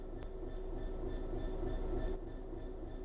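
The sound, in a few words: train starting to move in video game Train Sim World 3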